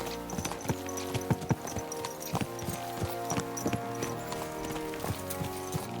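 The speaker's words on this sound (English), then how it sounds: "Let's really spur these horses on, eh?" Horse hooves clip-clop steadily in Kingdom Come: Deliverance II, a busy overlapping rhythm of several horses at pace, close and clear with a faint whinny and a music bed underneath.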